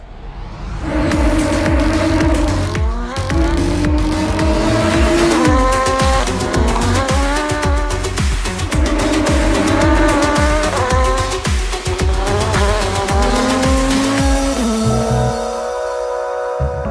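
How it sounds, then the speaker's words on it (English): Loud Audi DTM race car engines scream and blip repeatedly as they downshift, pitch stepping down in rapid rhythmic bursts, with tire squeal mixed in. "this noise downshifting is something very special, I would say, and even on the straight, the cars are very loud"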